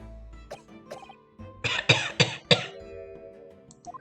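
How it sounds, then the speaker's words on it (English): A man coughs in the video game The Great Ace Attorney Chronicles, a harsh burst of four or five rapid hacks, preceded by a few softer throat sounds, close and fairly loud. "You seem to be coughing up some"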